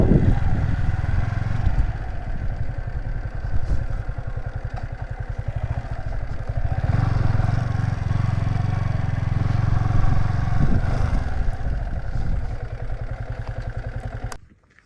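A motorcycle engine idles and putters steadily at close range while being parked, with some clatter, then cuts off abruptly at the end.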